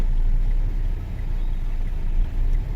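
A car engine during a driving test holds a steady, low rumble close by as the learner presses the accelerator, with no talk over it.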